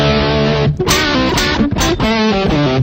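An electric guitar plays through an amp's distortion channel, with loud, saturated sustained chords and notes separated by brief breaks, close and alone.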